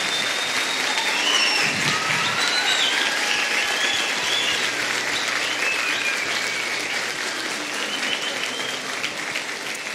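A church congregation at a men's retreat applauds the church team with sustained, dense clapping that stays loud and even throughout, with faint voices mixed in.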